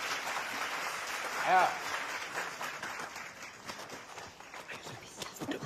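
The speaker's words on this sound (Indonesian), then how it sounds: "Tepuk tangan." An indoor audience claps for a young woman about to sing. The applause is fairly soft and uneven, with a brief swell early on, and a voice speaks over it.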